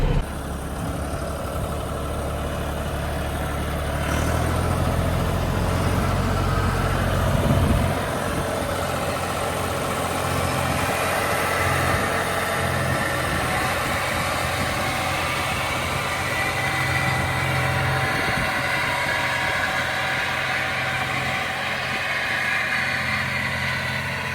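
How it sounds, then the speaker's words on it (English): Green farm tractor engine running steadily in front of barns during hay season, a continuous low rumbling drone that holds at a constant level throughout, fairly close, with no voices. "I love seeing a green tractor work out here in front of the barns."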